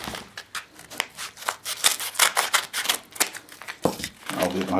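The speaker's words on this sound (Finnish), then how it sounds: "Sakset." Scissors snipping open a package of a new Leatherman Charge multitool, a rapid series of crisp cuts and crinkling plastic, close and fairly loud, with a brief rustle near the end.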